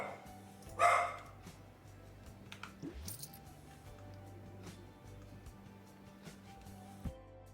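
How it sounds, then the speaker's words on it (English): A pet dog in a home gives one sharp, loud bark near the start, then a few fainter yips follow over quiet room noise. "Sorry, that's my dog."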